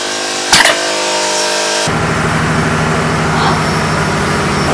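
Heavy machinery in a ship's engine room drones continuously and loudly, a low rumbling hum near an engine-starting air compressor, with a brief sharp clank early on and the din thickening after a couple of seconds.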